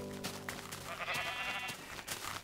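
Sheep in Minecraft, a few faint, wavering bleats over quiet background sound, no one speaking.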